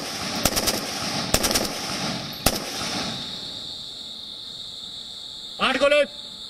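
Gunshots crack sharply in a few quick bursts during Indian Army night target practice, echoing over a steady background of insects chirping; a voice calls out briefly near the end.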